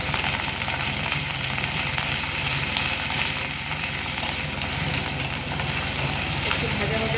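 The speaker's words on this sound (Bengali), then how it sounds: "একটু ভাজা ভাজা করে নেবো, কাঁচা গন্ধটা চলে যাওয়া পর্যন্ত" Ginger and garlic paste fries in a pan of hot oil with browned onions, a continuous close sizzle and crackle that stays steady throughout.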